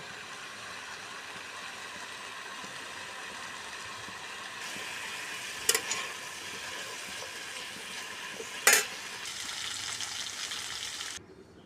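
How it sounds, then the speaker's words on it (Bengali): Potatoes frying in a pan with salt and turmeric give a soft, continuous sizzle heard up close, with two brief sharp clinks partway through and no talking. "হলুদ নুন দিয়ে প্রথমে আলুটা ভেজে নেব"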